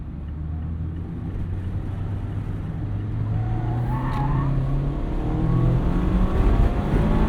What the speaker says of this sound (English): I just love going through the gears in this car.